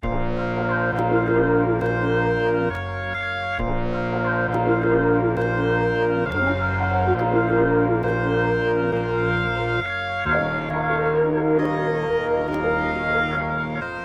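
Chopped, time-stretched melody sample played from a keyboard, with sustained harmonic chords in repeating phrases, smeared echo-like tails and brief gaps between chops, steady and loud throughout. No speech.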